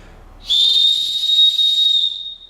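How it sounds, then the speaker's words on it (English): A distress whistle built into a Waterfly Kung Fu sports backpack is blown once, a loud, piercing steady tone held for about two seconds before trailing off, heard alone. "It has a whistle on it, a distress whistle, and it could also be used for my dogs if I need to get a hold of anybody."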